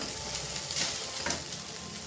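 Chowmein stirred and frying in a pan: a steady, faint sizzle runs throughout, with a few soft scraping stirs of the spatula, close and alone with no voices.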